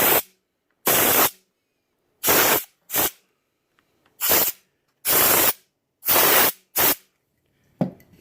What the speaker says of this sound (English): Alright, so I'm going to use an air can.